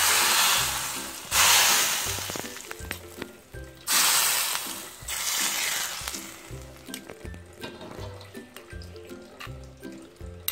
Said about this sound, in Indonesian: Setelah minyaknya panas, baru kita siramkan ke cabai yang sudah digiling.